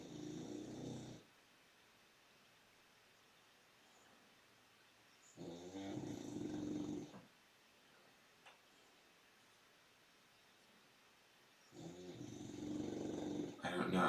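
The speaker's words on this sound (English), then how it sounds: "my dog's starting to snore now" A sleeping dog snores indoors in three slow, quiet rasping breaths spaced several seconds apart, with near-silence between them.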